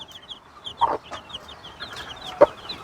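Broody hens with their chicks in a coop, soft hen clucks and two short louder calls over a steady backdrop of high, thin chick peeping, close by, with no talking.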